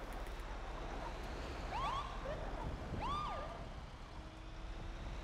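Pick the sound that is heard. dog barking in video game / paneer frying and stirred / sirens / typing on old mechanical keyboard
sirens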